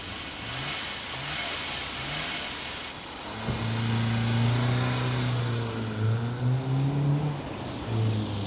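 A car engine starts and pulls away in a rural English village setting, revving through rising and falling pitches at moderate distance. The engine runs steadily under the scene with no speech.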